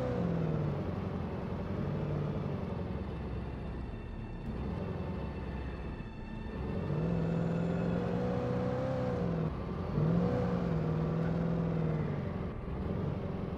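Car engine droning steadily while driving in the video game Alan Wake Remastered, with a tonal hum that rises and falls as it revs and eases, continuous and fairly loud with no speech.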